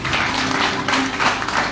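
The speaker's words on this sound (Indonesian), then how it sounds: "Tepuk tangan bagi Allah." Church congregation applauding at a Christmas service, a steady wash of many hands clapping for a short moment with no voices over it.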